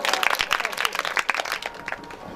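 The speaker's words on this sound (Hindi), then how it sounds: "एक बार अपने लिए ताली बजा दीजिए" A crowd at a Hindu religious discourse breaks into applause, lively, uneven clapping with sharp bursts, close and moderately loud, fading slightly toward the end.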